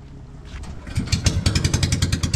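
A boat engine starts up and runs with a steady, rapid pulsing rhythm, getting louder after a quieter start, close by on the water.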